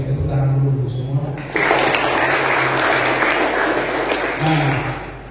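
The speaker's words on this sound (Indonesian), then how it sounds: "beri tepuk tangan dulu untuk semua" Applause from a school audience of student council heads at a gathering in Kupang, a dense broadband clatter filling the room for several seconds, with voices talking and calling out over and beneath it.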